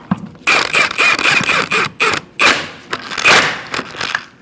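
A wheel spun by hand on the front hub of a 2004-2012 Chevrolet Colorado, giving a run of close mechanical whirring and creaking with brief pauses, loud and clear with no talk.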